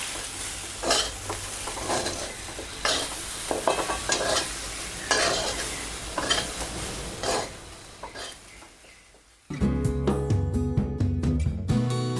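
Soaked chana dal is stirred in a pan as vatali dal, with repeated scraping strokes over a constant sizzle and some metallic clatter toward the end.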